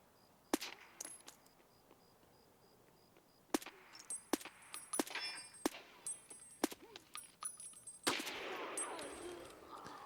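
Gunfire in the Escape from Tarkov shooter: a string of sharp single shots and short bursts, some loud and close, others fainter, spread irregularly through the clip with metallic clinks between them.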